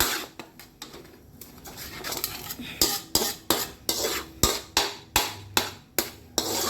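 A metal spatula scrapes and clanks in a pan while shrimp paste is stir-fried with vegetables, the strokes turning louder and more regular toward the end, with no one talking.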